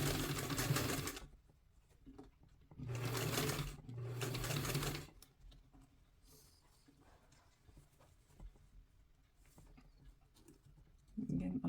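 A sewing machine stitches a two-piece collar in three loud, steady bursts, near and clear, separated by quieter gaps with faint background rustle.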